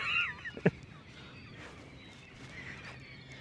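Birds at a New York City zoo honk during feeding time: a few short, goose-like calls near the start, then quieter ambient bird noise.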